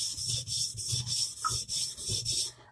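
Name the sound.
knife being sharpened on a sharpening stone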